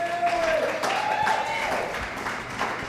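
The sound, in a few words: audience applause for an honoree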